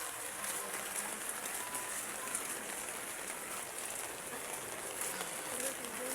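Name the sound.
rain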